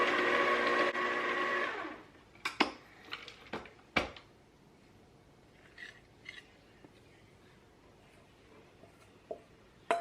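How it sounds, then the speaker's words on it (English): A stand mixer whirs steadily while kneading dinner roll dough for about two seconds, then stops, leaving scattered clanks and taps of the bowl and utensils in a quiet kitchen. "I always just stop the mixer every now and then for it to not overheat."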